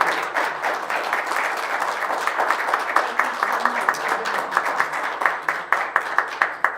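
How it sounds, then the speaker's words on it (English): A church congregation applauding, a continuous wash of many hands clapping in a large room, steady and moderately loud, swelling slightly toward the end. "And let's applaud for these wonderful people who are with us."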